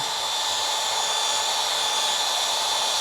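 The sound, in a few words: drill brush polishing an exhaust tip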